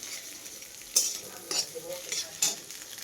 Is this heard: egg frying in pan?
yes